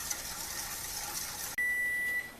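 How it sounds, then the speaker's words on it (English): A kitchen timer lets out one long electronic beep while redbud jelly is being canned, a steady tone following a stretch of broad hiss. "that's the timer"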